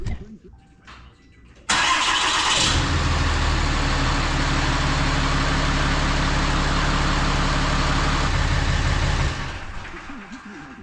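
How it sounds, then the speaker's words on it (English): A Ram 2500 pickup truck engine cranks briefly and catches after an oil change, then settles into a loud, steady idle close by for several seconds before dropping off near the end. "I'm going to start the truck up and let that oil pressure build up"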